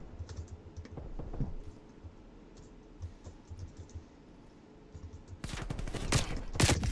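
Gunfire in a Call of Duty match, rapid bursts of shots crackling loudly over a steady background hum, growing denser and heavier toward the end.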